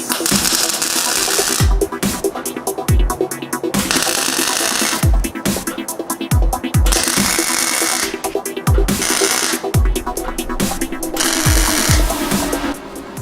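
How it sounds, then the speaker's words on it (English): MIG welder tack welding on a Volvo pickup truck build with no shielding gas, giving a close, continuous harsh crackle and sizzle broken by several short pauses between tacks. "I just realized I forgot to open the shielding gas on the welder, so I didn't have any gas for these"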